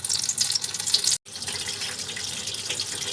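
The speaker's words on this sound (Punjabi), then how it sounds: "ਇਸ ਤਰ੍ਹਾਂ ਆਪਾਂ ਸਾਰੇ ਰੋਲ ਪਾਵਾਂਗੇ ਜਿਹੜੇ ਬਣਾਏ ਹੋਏ ਨੇ ਇਹਨਾਂ ਨੂੰ ਮੀਡੀਅਮ ਫਲੇਮ ਤੇ ਫਰਾਈ ਕਰਾਂਗੇ" Spinach paneer pakora rolls fry in oil over a medium flame, giving a dense, hissing bubble that breaks off for an instant before resuming steadily.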